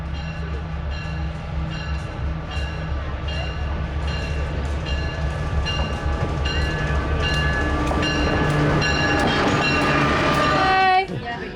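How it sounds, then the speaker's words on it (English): A train rolls in on a New Mexico–Colorado line, loud and close, with a steady low rumble, clattering wheels and squealing brakes building toward the end as it comes to a stop. "Now we wait for our train"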